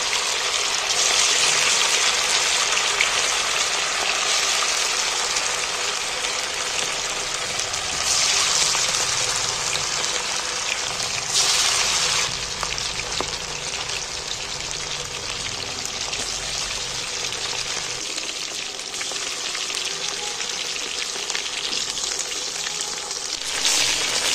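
Chicken pieces frying in hot oil as the meat is turned, a continuous loud sizzling hiss with brief surges, no voices.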